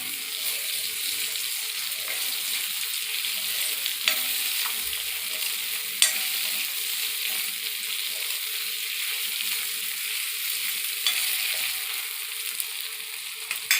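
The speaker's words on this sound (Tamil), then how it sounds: "வெந்துட்டுருக்க வாழைக்காயை ஒரு டைம் கிண்டி விட்டுக்கலாம்" Raw plantain being stirred in a frying pan for a Tamil home lunch, a steady oily sizzle with soft scraping of the spoon and a few light clicks against the pan, close and continuous, no voices.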